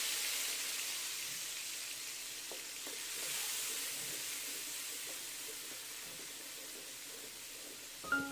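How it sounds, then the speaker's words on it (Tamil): Ginger garlic paste frying in oil with curry leaves and mustard seeds for a country chicken kuzhambu, a soft steady sizzle with faint stirring clicks, ending in a brief sharper clatter. "கருவேப்பிலை நல்லா பொரிஞ்சதுக்கப்புறமா இஞ்சி பூண்டு பேஸ்ட்டு இதோட நம்ம போட்டு நல்லா கலந்து விட்டுக்கலாங்க."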